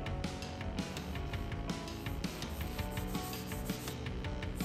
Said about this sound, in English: Back to more sanding.